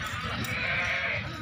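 A nanny goat with her kid at a goat sale gives a drawn-out, wavering bleat lasting about a second, close and fairly loud over steady background noise.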